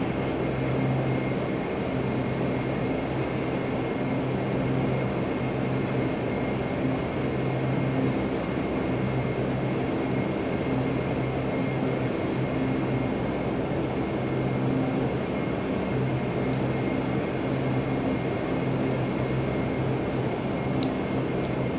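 Steady, loud engine drone of a Majestic Dash 8 Q400 turboprop during a flight simulator takeoff, a continuous hum with tonal whine that holds unbroken for over twenty seconds.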